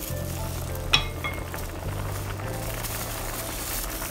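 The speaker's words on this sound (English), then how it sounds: "I'll just give it a stir." Red kidney beans for waakye are stirred in a pot over a steady sizzle, with one sharp scrape of a spoon against the pot near the start, then a constant low simmering hum.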